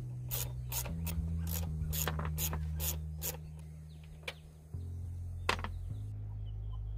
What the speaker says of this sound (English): Just switch over to a little 4mm socket and remove these studs.